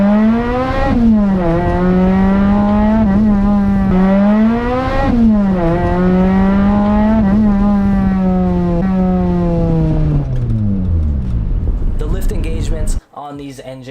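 A supercharged Toyota Celica GT-S engine revs while driving, climbing repeatedly in pitch through several gear pulls before winding down and cutting off near the end.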